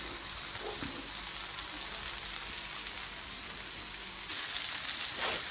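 Sheela fish fries in oil in a pan with a constant close sizzle that crackles a little louder near the end, heard alone without talk.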